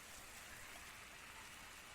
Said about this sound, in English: Lying here and listening to the rain.